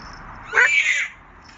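A voice imitates a penguin call in a children's church song about animals, a short, nasal, squawking cry of under a second, close and moderately loud against a quiet background.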